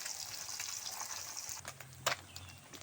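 Pabda fish fillets sizzle steadily in hot oil in a pan, a broad continuous frying hiss with a few sharper crackles and a soft clink near the middle, close and alone without talk.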